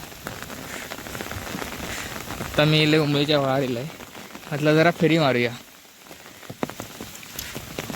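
Stormy rain falls steadily on surfaces outdoors in the Konkan, a constant close hiss running beneath a person speaking in short stretches.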